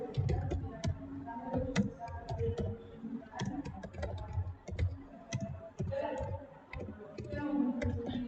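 Rapid, irregular clicking of a computer keyboard as data is typed in, fairly close and moderately quiet, with no voices.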